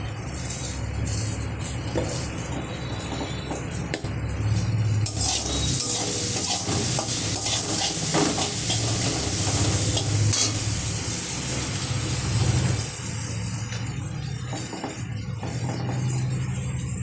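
Okra frying in a pan over a gas flame, with spices added, gives a steady close sizzle with stirring scrapes and occasional light clinks of utensil on pan, continuous throughout with no talk.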